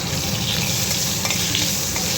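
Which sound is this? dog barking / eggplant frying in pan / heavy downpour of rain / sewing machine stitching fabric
eggplant frying in pan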